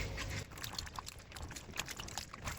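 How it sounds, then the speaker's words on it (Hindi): Okra being washed by hand in water gives soft splashing and trickling, with a fuller pour at the start and then scattered small drips and swishes, close and fairly quiet with no talk. "एक एक भिंडी को आपने इस तरह पकड़ के धोना है।"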